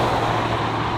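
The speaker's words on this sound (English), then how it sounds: "Now hear the wind, I'm pushing 85" Inside a Hennessey VelociRaptor 400 Bronco cruising at 85 mph, wind and road noise form a loud, dense, unbroken roar.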